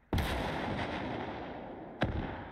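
Two booming artillery shots from a field gun in the World War II strategy game Gates of Hell: Ostfront, the first loud and close with a long rumbling tail, the second sharp blast about two seconds later, with no talk.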